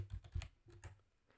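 Keys tapped on a computer keyboard, a short run of close, light clicks in an uneven rhythm, alone in a quiet room.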